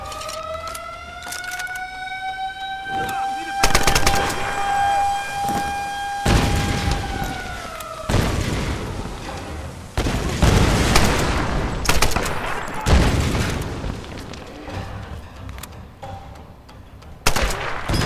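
Bursts of machine-gun fire from the Tomb Raider video game ring out loud and repeatedly over a wailing alarm siren, with scattered shots and sharp impacts filling the busy, chaotic soundscape.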